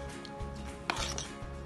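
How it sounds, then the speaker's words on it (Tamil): Chicken pieces are mixed by hand with spices, yogurt and egg, making soft wet squelching and rubbing sounds. There is one sharper knock of the bowl, and the whole sound is faint and close. "இது எல்லாத்தையும் இப்போ நல்லா மிக்ஸ் பண்ணிட வேண்டியதுதான்."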